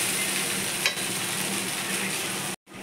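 Flattened rice pulao (chirer polao) being stirred in ghee in a pan, giving a steady close sizzle with scraping stir sounds and a brief break near the end.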